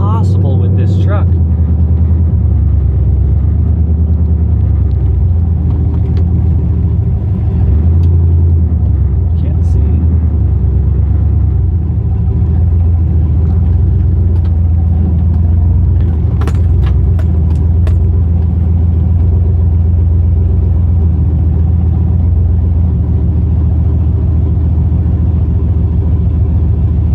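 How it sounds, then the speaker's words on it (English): A loud 2004 Chevy Silverado pickup with a stage 4 cam and long tube headers drives along, its deep exhaust rumble steady and close throughout, with a few keys jangling and a person talking over it at times. "Going to try and be as quiet as I can coming into my neighborhood, but it's not really possible with this truck."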